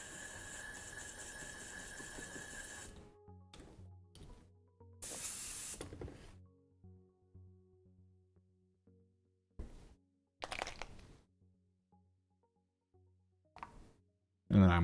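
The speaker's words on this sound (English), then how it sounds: "We'll probably finish the mushrooms, or at least the airbrushing for the mushrooms." An airbrush sprays paint onto miniature mushrooms for a Mollog's Mob model, a loud steady hiss for about three seconds, then several shorter on-off bursts of spray separated by quiet gaps.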